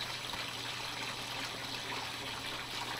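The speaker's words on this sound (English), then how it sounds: "That's the spillway running" Steady wash of water pouring over a garden pond spillway, an even broadband trickle and gush at low level with a faint low hum beneath, no talk.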